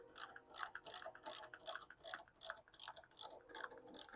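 A ratchet fitted with an 8mm socket clicks in quick, regular bursts while working on a 2012 Charger during a blinker install, the rhythmic pawl ticking fairly faint and close.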